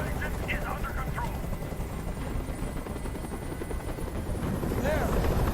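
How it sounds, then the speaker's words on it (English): A helicopter hovers in Detroit: Become Human, a loud continuous rotor thump and engine drone throughout, with a voice speaking briefly over it. "Tell that helicopter to get out of here."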